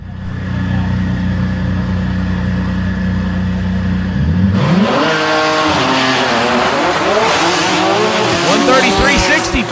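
Drag race cars at the DCT World Cup idle with a low, steady drone, then launch with a sudden loud roar, revving hard up through the gears as they tear down the track, with a commentator talking underneath.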